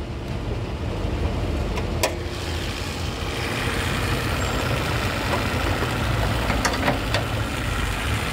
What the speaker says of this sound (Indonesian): Ini mesin udah nyala tapi seperti nggak bersuara karena saking halusnya untuk mesinnya.